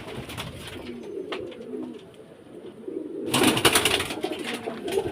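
Caged pigeons coo softly and steadily nearby, then a sudden louder burst of rustling or wing flapping breaks in past the midpoint. No one speaks.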